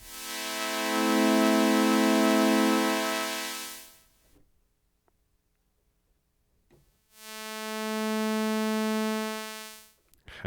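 An Arturia PolyBrute synthesizer with its Steiner filter resonance set halfway plays two sustained, buzzy held tones with a resonant edge, each lasting several seconds and separated by a silent gap of a few seconds.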